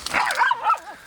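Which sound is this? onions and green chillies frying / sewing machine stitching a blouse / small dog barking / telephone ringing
small dog barking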